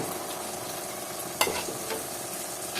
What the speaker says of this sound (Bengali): দিয়ে এটাকে নাড়াচাড়া করে নেব।